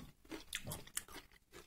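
Raw Romanesco cauliflower is bitten and chewed up close, giving a few quiet, crisp crunches in an irregular rhythm.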